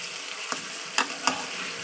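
Chicken kosha with spice paste frying in a pan, a steady faint sizzle broken by a few sharp stirring scrapes, with no voices.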